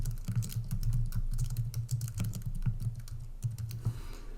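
Rapid, uneven tapping of keys on a computer keyboard, a close and fairly quiet burst of clicks that runs steadily for several seconds with no talking.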